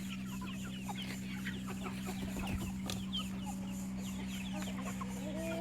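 Free-range rooster and hens clucking on a small farm in the late afternoon, with scattered bird calls over a steady low hum; the clucks are moderate in level and continue throughout.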